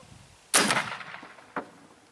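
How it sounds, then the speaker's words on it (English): An AEA Zeus .58 caliber air rifle fires a 500 grain bullet: one loud, sharp report with a ringing decay, followed about a second later by a fainter, shorter crack. "Shot number one with the AEA 58 cal ZEUS"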